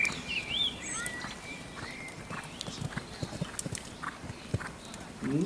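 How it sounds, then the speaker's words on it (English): A horse cantering during a jumping round, hooves clip-clopping in a steady rolling rhythm at moderate distance, with a few faint bird calls in the background. "I'm actually quite liking this canter at the moment"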